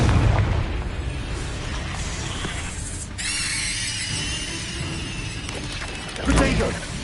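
A Confringo fire-blast spell explodes in Hogwarts Legacy, a booming burst at the start and another near the end, with a crackling, hissing flare between them over steady battle noise.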